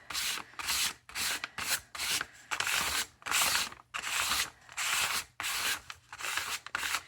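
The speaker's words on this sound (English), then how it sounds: "I'm just going straight in with this paint." A paintbrush rubs paint straight onto bare cardboard packaging for a journal cover in steady, scratchy back-and-forth strokes, close and fairly loud, with short pauses between passes.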